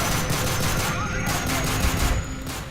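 Sustained gunfire in the video game Call of Duty: Modern Warfare 3 during the mission Turbulence, a steady dense rattle of shots in a noisy game mix, with some talk faintly underneath.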